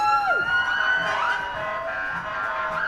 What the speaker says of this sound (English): If you could ask the fire engines to keep it quiet for a second.